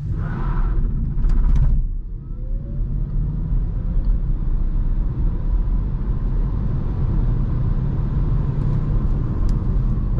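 A 2021 Peugeot e-208 Allure electric car accelerates hard in sport mode at night, giving a steady, loud low rumble of road and drivetrain noise with a faint rising whine after a brief louder burst at the start.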